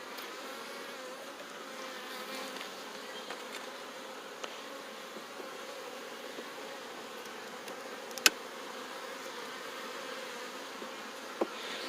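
A steady, continuous buzzing of many honey bees around a hive, an even droning hum with a few faint clicks, no voices.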